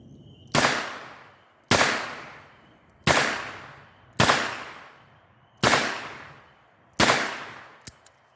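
Six loud revolver shots from a Smith & Wesson Model 66 K-frame, fired singly at a steady pace about a second apart, each a sharp crack followed by a decaying echo, with a faint click near the end.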